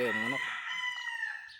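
A rooster crows loudly and close at a Philippine chicken farm, with other fowl clucking and calling behind it in one short, dense burst.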